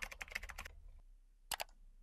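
Quiet computer keyboard typing: a quick burst of keystrokes, a pause, then two more taps, close and soft with no talk.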